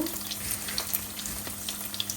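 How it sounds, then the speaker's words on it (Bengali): Garlic cloves fry in oil in a pan for a Bengali mash, producing a close, continuous crackling sizzle with scattered small pops and no talk. "প্রথমে রসুনগুলো একটু ভাজবো"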